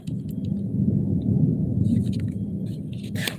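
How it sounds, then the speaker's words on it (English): Thunder at night during a storm: a loud, sustained low rumble rolls on steadily under steady rain, with crackling rain patter higher up and a sharper burst near the end. "I love it when it thunders at night, though."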